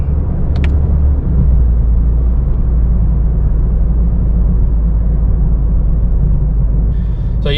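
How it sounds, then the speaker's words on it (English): Toyota GR Corolla with automatic transmission driving at steady speed, a loud continuous low engine and road rumble filling the cabin, turbo whoosh blended in, with a brief clink near the end. "I don't know if you can hear that turbo, but it sounds nice."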